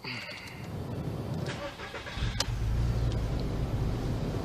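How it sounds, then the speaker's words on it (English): A VW Beetle engine cranks and catches, settling into a steady low idle that carries on near and moderately loud after a faint, brief exchange beforehand. "and start the car now"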